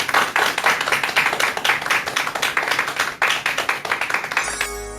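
A lecture audience claps for a lawyer's second talk on inheritance law, a brisk, close burst of rapid handclaps that tapers off and ends near the close.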